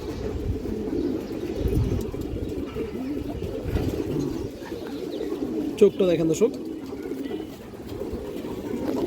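Fancy high-flyer pigeons with dark deep-coloured legs coo softly and steadily beneath a man's close, continuous talking, with a brief louder flutter of sound near the middle.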